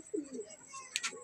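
A female pigeon gives a soft, low coo, close and brief, with a faint flutter or rustle following.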